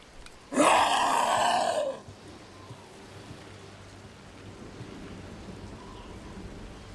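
Stormy weather in the video game Dragon Age: The Veilguard: a loud, rumbling burst lasting over a second opens, then fades into a steady, soft wash of falling rain.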